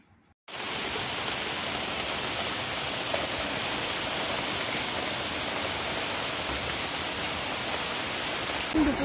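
Steady heavy rain falling outside during an afternoon downpour, a dense, even wash of close drops that starts abruptly and holds constant without speech.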